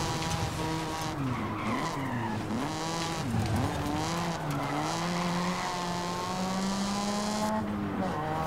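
A Mazda RX-7 drifting on streets in Forza Horizon 5, with a rising and falling rotary engine whine over long, sustained tire squeals, loud and continuous.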